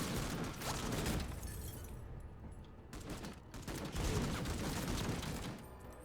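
Bursts of gunfire in the tactical RPG video game MENACE, dense rapid volleys rolling loudly in two main waves with short lulls between, no talk.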